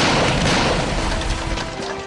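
A giant six-inch egg bursts inside a microwave with one loud, sharp boom that fades quickly.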